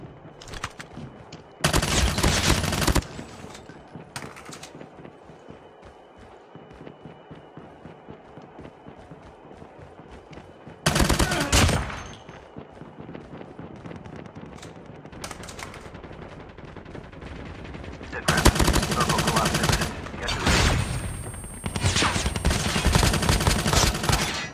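Rapid bursts of automatic hip-fire gunfire from the FR .556 in Call of Duty Mobile battle royale, several loud sustained volleys separated by footsteps and quieter gameplay.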